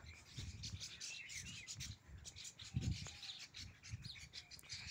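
Several small birds chirp and call in a garden with a silk cotton tree near the sea, their high tweets scattered across a steady outdoor background with occasional low rustling and thumps.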